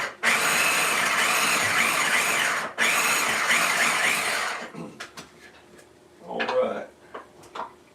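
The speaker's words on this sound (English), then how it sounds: "Finish dicing up the onion." An onion is chopped in a dicer with a loud, steady whirring grind that runs for several seconds with one brief break. Scattered clicks follow, and a voice talks near the end.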